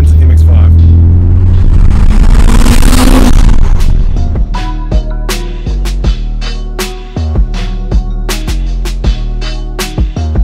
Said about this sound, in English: Rolling and Dan's MX-5.